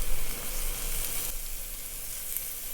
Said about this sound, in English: Add the garlic to the pan now.